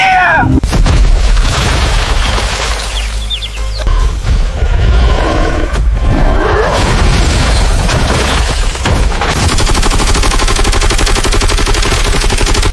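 Rocket artillery fire roars continuously, with dense rumbling booms and rapid rattling blasts overlapping into a loud, unbroken barrage.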